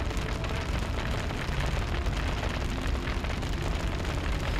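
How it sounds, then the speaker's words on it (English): A fireball spell ignites a pool of grease in the fantasy game Dragon Age: Origins, giving a steady, loud roaring burn with rumbling low end that holds without pause for the whole stretch. "he's launched a fireball. That fireball has lit the grease on fire"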